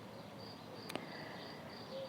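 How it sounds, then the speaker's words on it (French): Crickets chirp in a steady, faint background chorus in a quiet setting, with a soft thin trill running through the whole stretch and no voices. "On entend les grillons, c'est génial."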